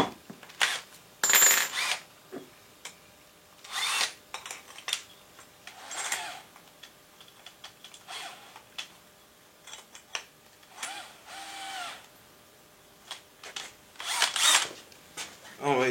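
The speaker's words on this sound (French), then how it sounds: "Voilà la perceuse." Power drill boring into a wooden coat rack in short, repeated whirring bursts close by, separated by pauses, with a voice speaking between them.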